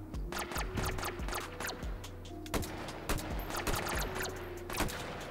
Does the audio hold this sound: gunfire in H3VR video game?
yes